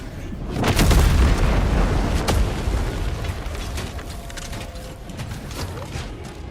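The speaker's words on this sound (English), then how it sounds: "Calling in orbital strike." Orbital strike explosions boom in Helldivers 2, a deep heavy blast swelling early and rumbling on with scattered crackling debris, loud and close, with no talk over it.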